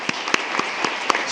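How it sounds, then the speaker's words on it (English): A small board-meeting audience claps for the Knights in a short, sparse patter of separate hand claps, several sharp slaps spaced out over about a second, fairly faint in a room. "How about a big round of applause for them"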